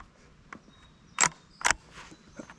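The bolt of a Ruger American rifle chambered in .350 Legend is worked after firing, two sharp metallic clacks in close succession with a few fainter clicks around them, close to the microphone and without talk.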